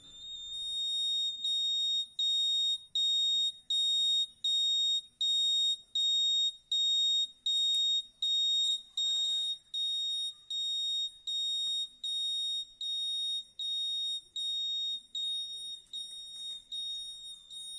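A homemade heat-triggered fire alarm buzzer sounds a steady train of shrill, evenly spaced beeps, about one per second, loud and unbroken, with a brief rustling noise midway and the beeps weakening slightly toward the end.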